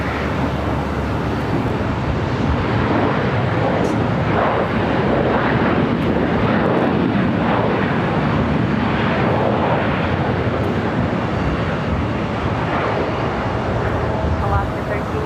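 A plane taking off from runway 25 Right at Los Angeles International Airport makes a steady, loud broadband roar that fills the whole stretch, with radio voices talking over it.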